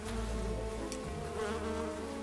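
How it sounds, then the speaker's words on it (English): Insects buzz continuously around garden plants, a bee and a hoverfly droning at a steady low level close by, with no voices. "There's a bee on that plant there."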